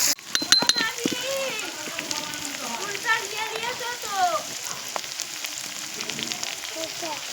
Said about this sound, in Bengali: এতে কিন্তু আমি পেঁয়াজ দিয়ে দিয়েছি, লাল লাল করে ভেজে নেব